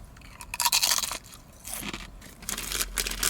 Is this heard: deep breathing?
no